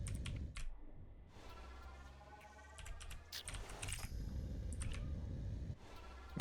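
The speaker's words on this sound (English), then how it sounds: "Why are you typing in stream?" Typing on a computer keyboard during a stream, with bursts of rapid key clicks and pauses over low background hum, no talk.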